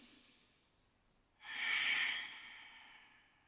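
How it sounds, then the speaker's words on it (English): Slow, natural breathing during a gentle warm-up exercise: a faint breath, then one long, close, steady inhale that swells and slowly fades, with no talking. "Just take some nice natural breaths, nothing too complicated."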